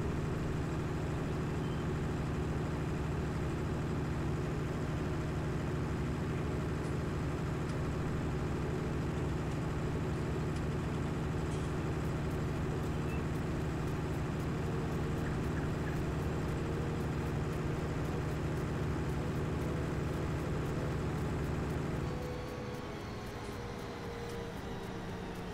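A steady, droning Claas tractor engine on the Greenwich Valley map in Farming Simulator 19 runs loud and unbroken for the whole stretch, with a faint shift in tone near the end and no talking.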